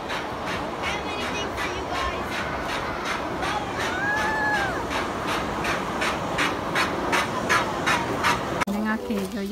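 Turkeys or similar fowl at an Okinawa park, a rapid rhythmic gobbling chorus pulsing steadily and fairly close, with a sharp bang near the end.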